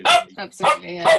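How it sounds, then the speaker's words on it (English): A dog barks in short, loud bursts during a community meeting, with several yips and woofs close to the microphone overlapping people talking. "The dog's saying well done"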